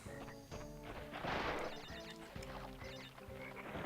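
A frog croaks in Crash Bandicoot 3, a repeated harmonic burble pulsing steadily over the game's music and effects throughout.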